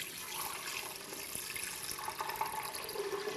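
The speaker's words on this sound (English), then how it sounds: "Here, we're going to pour that in the Vitamix." Coconut water poured from a container into a Vitamix blender, a continuous splashing, gurgling stream that holds steady for a few seconds with no talk over it.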